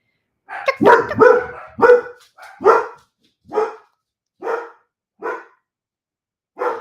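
Dogs bark at home, a burst of rapid close barks followed by slower single woofs spaced out and fading slightly, with nobody talking.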